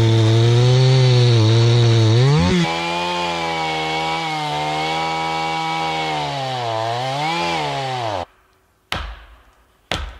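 A big chainsaw runs loud and close while felling a tree in winter, its engine whining and shifting pitch as it bites into wood, then cuts out abruptly, leaving short bursts of noise.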